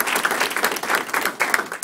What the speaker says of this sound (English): Let's give a huge round of applause to Suzanne Shenfil